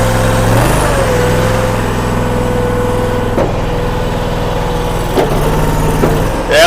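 All Wood Musclewood engine-powered log splitter running slow at low throttle, a loud, steady close-up engine drone with a brief hiss or clunk midway.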